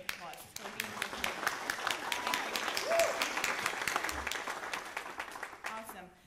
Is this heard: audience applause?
yes